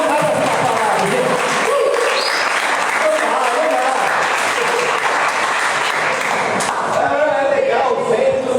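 A church congregation applauds at a conference gathering: dense, steady clapping from many hands fills the whole stretch at close range and stays loud throughout, with a few voices mixed into the crowd.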